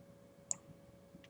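A computer mouse clicks while someone edits in Panopto: one crisp, quiet click, then a fainter second click about three-quarters of a second later, over a low background hum.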